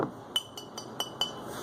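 Glass whiskey bottle tapped five times in a steady, evenly spaced series of bright, ringing clinks, close and fairly quiet with nothing else around.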